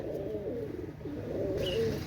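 A Cobra Teddy pigeon hen, of an imported Pakistani bloodline, coos in low, throaty rolling phrases close by, with a brief higher chirp near the end and no talk.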